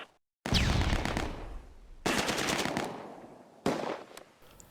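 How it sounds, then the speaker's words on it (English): Heavy gunfire in the Close Combat: A Bridge Too Far wargame at the Arnhem west approach, with loud bursts of automatic fire and rattling shots in three close waves, no talk. "We're under heavy fire."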